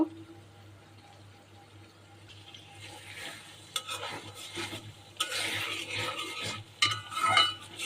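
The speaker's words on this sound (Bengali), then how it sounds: "এখন ভালো করে মশলাগুলো কষিয়ে নেব" Spices sautéing in a cooking pan with a little chopped onion, stirred with a utensil: quiet scraping and clinking strokes that grow louder over a soft sizzle, close up, with no one talking.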